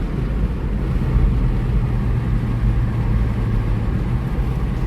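Small truck driving, a steady low engine and road rumble heard from inside the cab, constant and fairly loud with no talk.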